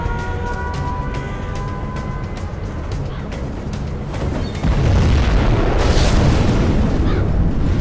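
A nuclear missile launch and detonation in Command & Conquer Zero Hour: a rumbling build-up under rapid clicks, then a heavy, sustained boom with a sharp burst that keeps roaring.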